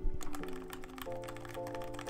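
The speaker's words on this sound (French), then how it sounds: "j'essaie de taper sur le clavier" Rapid clicking keystrokes from a computer keyboard being typed on, steady and fairly close, with a faint underlying hum and no voices.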